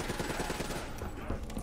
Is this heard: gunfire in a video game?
yes